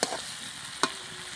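Chicken pieces and potato sautéing in a pan give a soft, steady sizzle, with two sharp stirring scrapes, one at the start and one near the middle.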